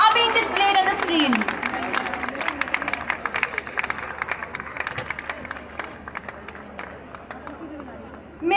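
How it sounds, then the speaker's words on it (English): A school annual day audience gives a big round of applause for honored students, a loud dense burst of clapping and cheering that slowly thins and softens over several seconds. "They truly deserve a roaring applause"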